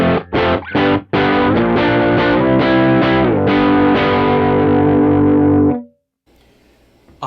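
An electric guitar played through a Kemper amp profile on its dark channel gives a few short stabs, then loud, full, sustained distorted chords that cut off abruptly into near silence.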